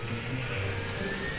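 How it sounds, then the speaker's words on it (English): Steady droning engine of an airplane flying over in the video game Left 4 Dead 2, a continuous moderately loud hum with no talk. "Hey, it's a plane!"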